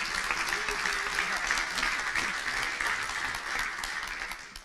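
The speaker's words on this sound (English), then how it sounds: "round of applause" Attendees at an annual open-source foundation meeting clap together, a steady, moderately loud wash of many hands that continues for several seconds before easing off, with voices faintly mixed in.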